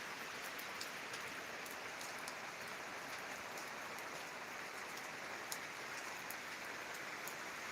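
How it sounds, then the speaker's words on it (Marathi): Steady, dense rainfall pours down in a continuous hiss, drumming on surfaces with no voices present. "आज सुद्धा पाऊस जोरदार येत आहे आणि चालूच आहे"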